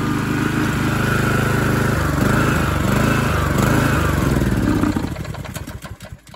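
Small gasoline engine idling after carburetor work, the choke having been adjusted, with a steady, even putter and some clatter that fades and breaks up toward the end as it shuts down.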